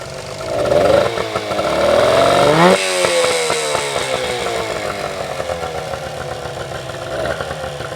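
A small used outboard boat motor runs in forward gear, its buzzy engine revving up with rising pitch, dropping briefly, then holding a steady, loud, close drone with slight fluctuations and no talking.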